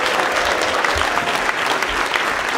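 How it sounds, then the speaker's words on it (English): Warm, sustained audience applause for volunteers at a primary school event linked to the ISS, dense and even for the whole stretch with no talking over it. "Can we have a round of applause, first of all, for all our ARIS volunteers who make it happen"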